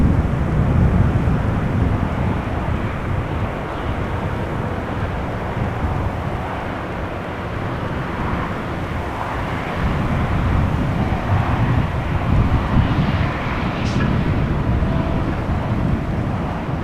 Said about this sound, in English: The next airplane already landing. Another KLM Embraer.